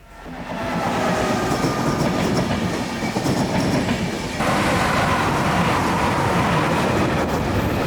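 A train rolls through a railway station, a loud continuous rumble with rhythmic clatter of wheels over rail joints, steady and close throughout with a slight shift in tone midway.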